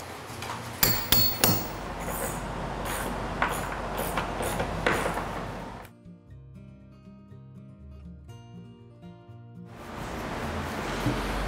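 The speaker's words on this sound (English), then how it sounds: "Can I use your hammer real quick?" Sharp hammer blows drive a shim against a boat plank on a wooden boat restoration, a quick cluster of close, loud strikes followed by a quieter pause and then a return of dense workshop noise.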